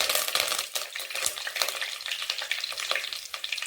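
Onions drop into hot oil where mustard seeds have already popped, for a Tamil vawal (pomfret) fish kuzhambu, giving a steady loud sizzle with scattered crackles and pops and no voices.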